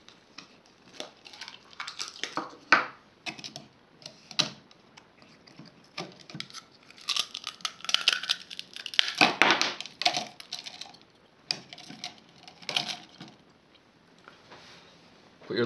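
Ice cubes added into the container of a mini battery-powered air cooler, a long run of irregular clattering, knocking and crunching sounds, close and fairly loud, with short pauses between bursts.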